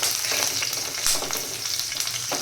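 Garlic, curry leaves and green chili fry in hot oil in a pan for matar pulao, with a dense, loud, continuous sizzle and crackle close up, with light stirring and no speech.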